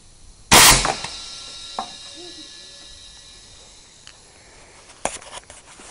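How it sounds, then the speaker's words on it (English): A rear breech-loading air cannon fires paintballs with one sharp, loud blast near the start, trailing into a hissing decay, followed by a few fainter clicks and knocks later on. "Now we'll fire the paintballs."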